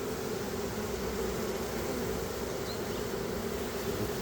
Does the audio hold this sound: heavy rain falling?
no